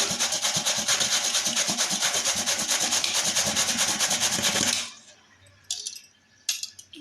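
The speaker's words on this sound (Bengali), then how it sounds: "আমি একটা স্যালাড মেশিন দিয়ে এটাকে কুড়িয়ে নিচ্ছি" A sweet pumpkin is grated with a salad machine: a dense, steady run of rhythmic scraping and rubbing for about five seconds, then a quiet kitchen with a few light clicks and knocks.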